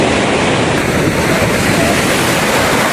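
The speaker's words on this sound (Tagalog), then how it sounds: "ang lakas ng alon, dagat!" Strong sea waves at Tangalan beach in Aklan roar as a dense, continuous wash of surf noise, loud and close throughout.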